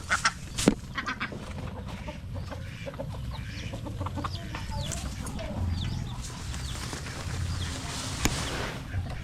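Ducks quack while being fed at dusk, with scattered close calls and clucking fowl mixed among soft background noise.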